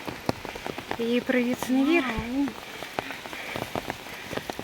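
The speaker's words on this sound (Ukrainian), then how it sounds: "О, дощик почався." Rain falling at Synevyr in the Carpathians: a steady patter of drops close by, with a person speaking briefly over it.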